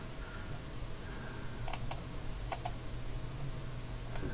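A few sharp computer keyboard and mouse clicks during control-clicking, scattered in small clusters over a steady low background hum.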